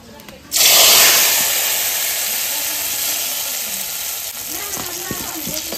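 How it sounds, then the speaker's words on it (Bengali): Panch phoron, dried chilli and bay leaf hit hot oil with a sudden loud sizzle that keeps hissing steadily while fading slightly, with faint clatter near the end. "এবার পাঁচফোড়ন, শুকনো লঙ্কা, তেজপাতা দিয়ে দেবো।"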